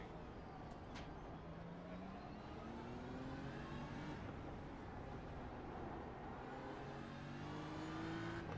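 A BMW race car in Virtual Velocity Racing on the Long Beach road course drones steadily, its engine note rising and falling through gear changes at moderate, even loudness, with faint talk underneath.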